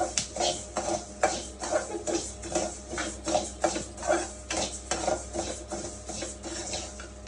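Ragi and other grains being dry roasted in a pan, with a steady run of rhythmic scraping and rattling strokes from a spatula against the metal, close and moderately loud with no talking.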